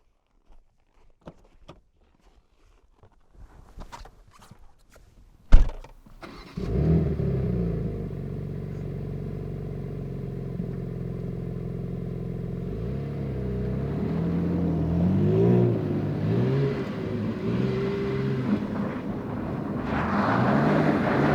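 A few footsteps and clicks, then a 510 hp rear-wheel-drive BMW engine starts and revs, droning steadily and rising as the car accelerates on ice.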